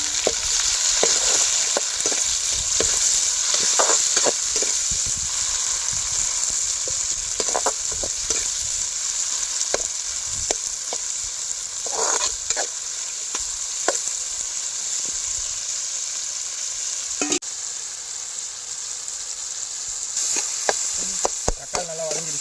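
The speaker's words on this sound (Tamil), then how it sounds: "தக்காளி போட்டுக்குவோம்." Tomatoes fry in oil over sautéed onions for a village-style mushroom curry, a steady sizzle running throughout with scattered scrapes and taps of a spoon stirring the pan.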